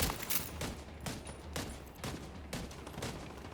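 Gunfire in a video game fight against an incoming wave: a series of sharp shots at a roughly regular beat, about one every half second, moderately loud against a quieter background, no talk.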